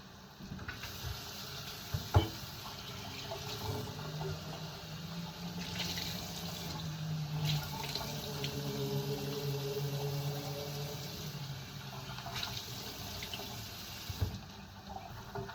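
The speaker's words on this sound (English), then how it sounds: "So I now just kind of rinse them while they're in the container." Tap water runs over whole raw shrimp held in a container in a home kitchen, a steady moderate rinsing and splashing with soft clatters from the container, no talking.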